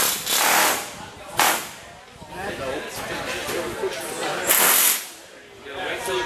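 Bursts of rapid, harsh pneumatic rivet-hammer hammering rattle close by at an aluminum team riveting competition, separated by pauses with background chatter and workshop noise.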